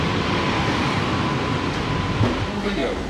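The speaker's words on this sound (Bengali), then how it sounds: "The train is now departing." AC local train running from Bongaon toward Sealdah, a steady broadband rumble of wheels and carriage noise throughout, with a voice speaking under the din.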